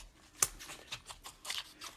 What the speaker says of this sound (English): I just get a scissors and I cut them right off